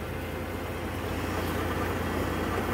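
The 3.5-litre V6 of a 2009 Dodge Journey SXT with automatic all-wheel drive idles at a wrecking yard, a steady, even engine hum with constant low-end rumble and no voices.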